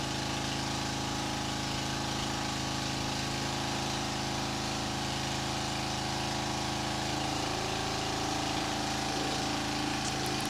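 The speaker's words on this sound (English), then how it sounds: "In one stroke, the jacks can raise the house 17 inches." Hydraulic jacks raising a house off its foundation, a loud, constant pump-and-motor drone with steady hum that barely changes over the whole stretch.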